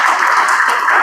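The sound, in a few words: audience applause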